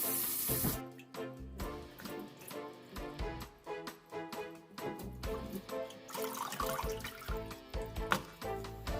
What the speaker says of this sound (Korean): 다시 10분쯤 후 흐르는 물에 깨끗이 씻어줍니다.